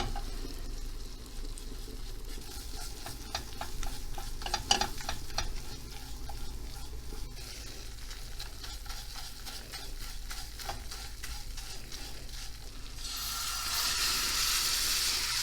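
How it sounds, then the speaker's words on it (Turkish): Flour toasts in a pan for Turkish hünkar beğendi, giving a continuous soft sizzle and hiss with steady scraping strokes of a spoon throughout. "Şimdi unumuz şöyle hafiften bir rengi dönene kadar kavuralım."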